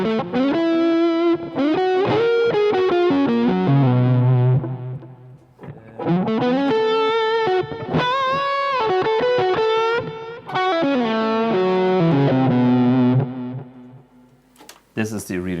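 An electric guitar plays through the vintage channel of an AMP1 Iridium Edition amplifier with reverb on, giving sustained, harmonically rich chords and melodic lines in loud phrases with brief pauses.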